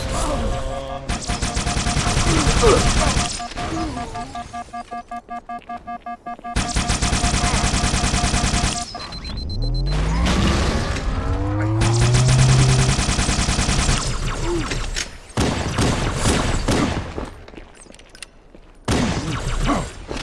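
Dense automatic gunfire in Halo 2 rebuilt with Halo: CE assets, long loud bursts of rapid shots separated by short gaps, with whooshing plasma and electronic sweeps mixed in, close and intense.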